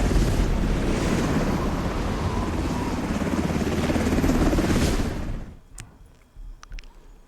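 Helicopter in the mobile shooter game Delta Force Hawk Ops, a steady loud rotor and wind roar for about five seconds that suddenly cuts to quieter scattered clicks and thumps.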